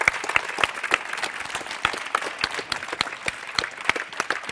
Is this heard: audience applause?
yes